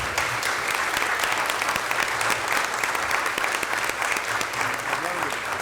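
A council meeting audience in a city chamber breaks into sustained, loud applause for honorees from the state education department, dense steady clapping filling the room with a few voices mixed in.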